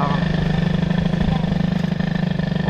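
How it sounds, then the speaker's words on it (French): A tuned Peugeot 103 moped with a Doppler cylinder, its small two-stroke engine droning loud and close at steady high revs with a rapid pulsing rhythm throughout. "Elle lève la pétoire."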